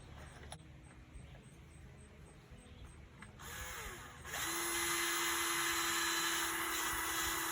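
A power drill bores 3/8-inch holes into PVC for a chicken coop water and feeder system, starting quietly and then running as a loud, steady whine for the last few seconds.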